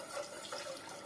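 Broth is poured into a roux for a chicken sauce, giving a brief, close, soft liquid trickle and splash with no talking.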